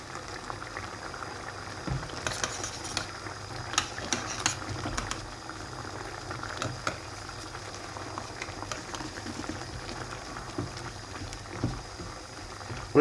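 Vegetables with Heinz ketchup and brown sauce simmering in a pot, a quiet continuous bubbling with scattered small pops and blips, fairly faint and steady throughout.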